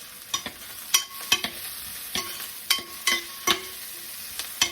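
Boiled meat sautés gently in a pan, a soft low sizzle punctuated by a series of sharp clinks and scrapes from stirring at a slow, irregular rhythm.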